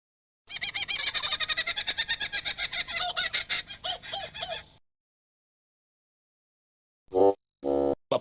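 A kookaburra call in a video game: loud, rapid, cackling laughter for about four seconds, then silence and a few short bursts of sound.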